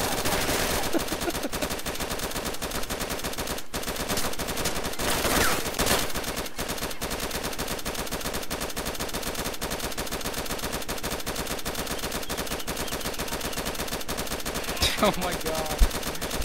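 Rifle fire in the survival game DayZ, a long sustained barrage of rapid automatic shots crackling densely for many seconds, loud and continuous, with a brief exclaimed voice near the end.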